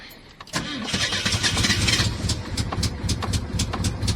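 A 1968 VW Fastback's air-cooled engine, left sitting for weeks, cranks briefly and then catches, settling into a loud, close, uneven idle with a steady rattling beat.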